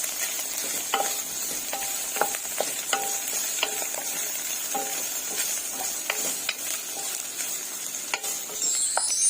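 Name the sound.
chicken fillet being stirred and fried in a pot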